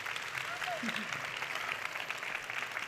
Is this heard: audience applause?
yes